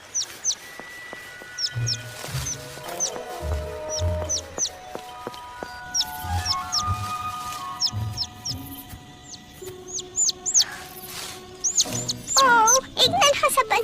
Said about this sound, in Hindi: एक नन्हा सा पंछी।